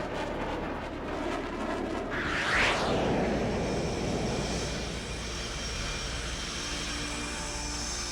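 Jet aircraft engine in the video game H.A.W.X. 2 roars steadily at takeoff, swelling into a loud rising whoosh midway and then settling into a sustained hum, with no talking.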